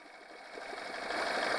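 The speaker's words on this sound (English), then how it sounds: "And see, this is the idling." A Honda 8 hp four-stroke outboard, its carburetor just cleaned after ethanol fuel trouble, idles with a steady mid-pitched hum that swells slightly louder toward the end, heard alone.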